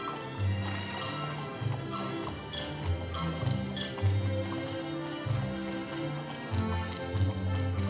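Hooves of a horse pulling a streetcar along Disneyland's Main Street clop in a steady, continuous rhythm throughout, set against a busy background of low tones.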